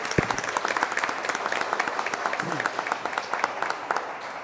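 Steady applause from a crowd at a public citizen-participation dialogue event in Veraguas, Panama, continuous and fairly loud throughout, with a faint voice briefly audible beneath the clapping.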